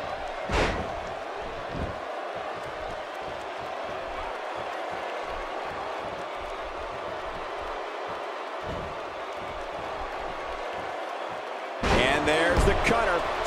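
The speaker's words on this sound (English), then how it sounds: "Slamming the face to the mat." A wrestler is slammed face-first onto the mat in a match between Austin Aries and Samoa Joe, a sharp impact near the start over steady arena crowd noise and commentary, with a louder crowd surge at the end.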